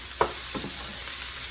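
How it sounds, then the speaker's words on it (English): Fried rice stirred in a hot pan, with a steady sizzle and a few short scraping strokes near the start, close and fairly quiet, no talk. "You can see the rice is fried. Just give it a stir."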